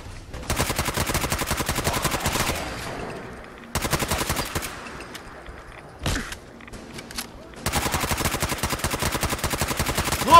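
Rapid automatic gunfire from the game Fallout 4: Nuka World comes in three long, loud bursts separated by brief pauses, with a short single burst between them and faint talk in the gaps.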